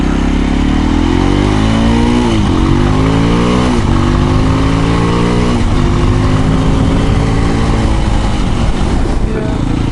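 An SWM RS650R motorcycle accelerates hard, its engine note climbing through the gears in rising sweeps, loud and close throughout with wind noise over it.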